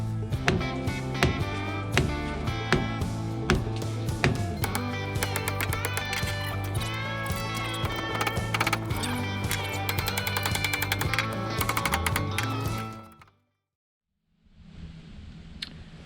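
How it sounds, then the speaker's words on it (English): Repeated hammer blows pounding on seized brake drums of an old AMC Eagle, rapid metallic clanks in a steady rhythm for about thirteen seconds, then a brief silence followed by faint background noise. "I'm gonna start with just pounding the crap out of it on the outsides"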